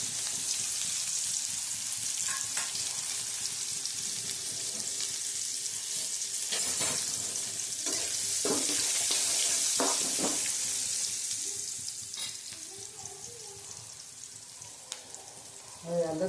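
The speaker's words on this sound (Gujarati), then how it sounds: "હવે નાખીશું હિંગ નાખી અને આપણે ડુંગળી સાતરવા નાખી દઈશું" Onions sizzle loudly as they are sautéed in hot oil with asafoetida for Gujarati dal fry, a steady bright hiss with occasional stirring clatters that eases off toward the end.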